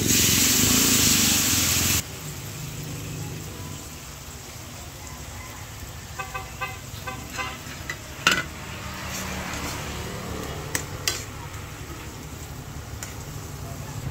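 A sweet and sour sauce of ketchup, vinegar and sugar goes into a hot pan with a loud two-second burst of sizzling. Quieter simmering follows, with scattered utensil clinks and scrapes.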